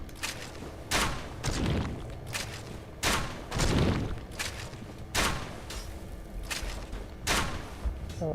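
Gunfire from a ranged weapon in Dark Souls, with several sharp, loud reports at irregular intervals, each cracking out and fading over a low background.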